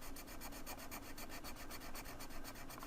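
Soft, rapid rhythmic scratching of a colored pencil rubbing across paper, close up and fairly quiet, with no voices.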